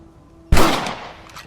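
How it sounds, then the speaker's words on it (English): A single sharp rifle shot from the video game Red Dead Redemption cracks out loud and close, then a short reverberant tail fades, after a quiet lead-in. "Your back's tense and it's making the rifle jump."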